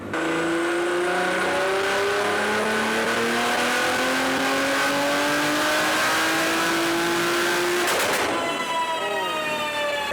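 Tuned turbocharged car engine on a chassis dyno at 28 PSI boost, wound up in one long loud pull with steadily rising harmonics for about eight seconds, then a sharp shift-like break and a brief renewed climb.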